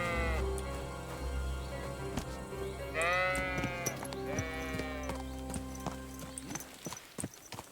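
Horse hooves clip-clopping in the medieval video game Kingdom Come: Deliverance 2, mixed with sheep bleating and a horse whinny over a game music bed, the hoof steps irregular and moderately close.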